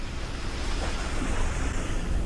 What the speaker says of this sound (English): It is splashing around. He's having a little splish splash.